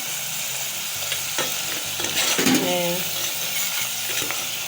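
Homemade potato chips fry in oil with a steady, close bubbling sizzle, a few metallic stirring clinks, and a brief louder crackle midway.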